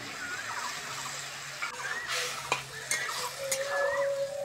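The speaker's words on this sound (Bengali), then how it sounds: "এবার আমি মশলাগুলো ভালো করে কষবো।" Spices sizzle in hot oil for a fish curry while a spatula stirs and scrapes through them, a steady frying hiss with several sharp scraping strokes close by.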